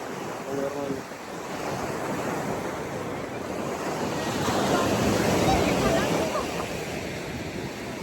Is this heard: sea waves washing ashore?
yes